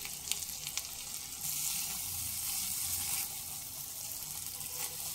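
Spice paste mixed with tomato sizzles and fries in a pan for a Bengali jackfruit and prawn dish, a continuous hissing crackle that grows louder midway, with faint stirring clicks.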